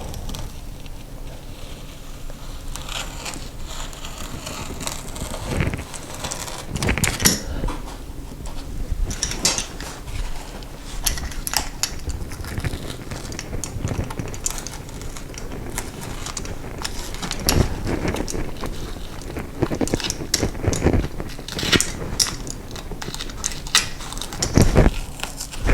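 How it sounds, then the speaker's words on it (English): A utility knife cutting through an area rug pad laid over wood, giving irregular scraping and crunching strokes with occasional sharper tearing accents, close and fairly quiet, with no talk over it. "you can come in here with a utility knife and cut it the rest of the way"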